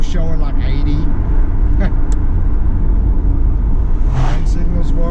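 An LS-swapped Chevy Nova engine runs smoothly while driving, producing a loud, steady low rumble with road noise that stays constant under people talking inside the car.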